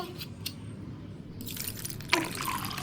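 Water poured over toy kitchen utensils from a toy set, a short close trickle and splash with a brighter burst of pouring near the end.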